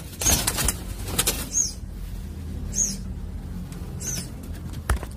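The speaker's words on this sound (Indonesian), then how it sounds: "Ini adalah anakan burung silangan dari terkuku dan juga berenggolo putih." A spotted dove and white-collared dove cross coos softly, giving three or four short, evenly spaced calls against quiet background rustling, with no speech.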